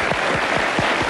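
Brief studio audience applause for the house band's guest guitarist on a 1996 Swedish late-night talk show, a fairly soft, steady patter of clapping lasting about a second.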